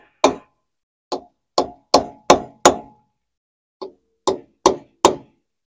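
A punch struck with a hammer to mark an old wheel spindle on a Peterbilt truck, giving about ten sharp metallic taps in irregular groups: six quick ones, a pause, then four more, close and clear with no talk.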